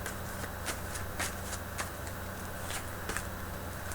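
Tarot cards are shuffled close up in a quiet room, with a series of soft, crisp riffling bursts repeating at a steady pace over low background hum.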